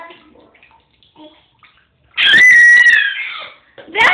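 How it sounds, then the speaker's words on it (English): A baby in a bathtub lets out a loud, shrill, sustained scream that lasts over a second, then a second short scream, after quiet moments of faint water movement. "That's a loud scream."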